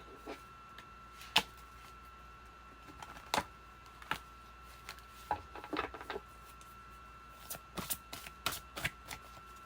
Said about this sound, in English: These cards are so huge. I can't even shuffle them with my hands.